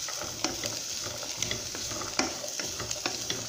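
Vegetables fry in oil over a low flame for vegetable soup while a spoon stirs them, giving repeated scrapes and knocks against the pan over a continuous close sizzle.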